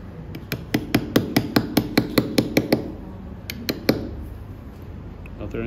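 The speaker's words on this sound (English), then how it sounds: "here you need to swing the chisel a bit like this" Steady series of sharp hammer blows on a chisel cutting letters into stone, about a dozen evenly spaced taps followed by a pause and a few more strikes, close and fairly loud.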